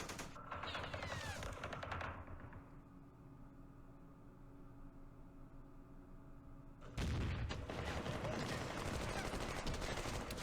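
Heavy weapons firing in the Vietnam War strategy game Campaign Series Vietnam, Battle of Khe Sanh Village 1968; dense rolling gunfire, fading into a hum, then a loud sustained barrage bursting in near the end.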